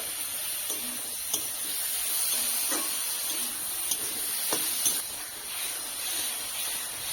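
Sugar being stirred into hog plum chutney in a pan, a steady sizzling hiss with a few faint scrapes of the spoon at irregular moments, no talk.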